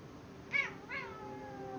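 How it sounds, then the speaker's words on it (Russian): Two short meows from a cat in the Spider-Man SD video game, close and fairly clear over a faint steady background hum. "Залез на окно. Мяу."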